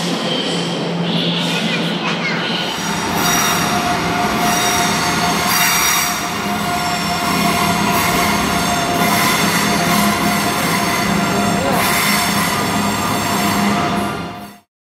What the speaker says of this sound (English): Alright, so the train has started to move.